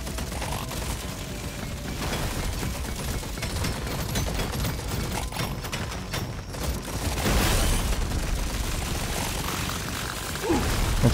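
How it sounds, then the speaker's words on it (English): Rapid crackling bursts and rattling blasts from the video game Deep Rock Galactic Survivor pile up as a dense, continuous barrage of in-game explosions, swelling louder toward the end. "Bombs bursting in there."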